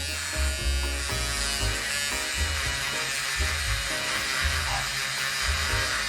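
Buccasso cordless pen sander running at full speed, taking a mold seam line off a part, giving a steady high electric buzz with slight wavering as it presses on the workpiece.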